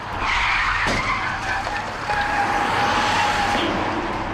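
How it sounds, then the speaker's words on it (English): Big rig truck slamming into a car broken down in the middle lanes of a freeway: a loud, sustained screech of skidding tyres with a sharp impact near the one-second mark, under heavy traffic roar. "A big rig just hit it."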